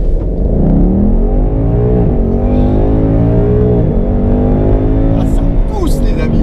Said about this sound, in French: il suffit d'appuyer à fond sur l'accélérateur